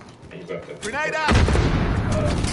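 A grenade goes off in a PS4 shooter game, a deep, loud blast that rolls on into a rumbling tail after a brief voice.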